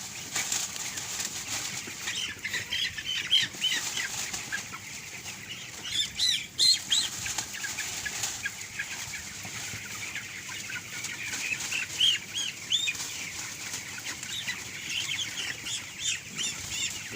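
Broiler chickens on a small poultry farm squawk, cluck and flap their wings as birds are caught for weighing, a busy, steady chorus of fowl noise with bursts of wingbeats, close by and without talk.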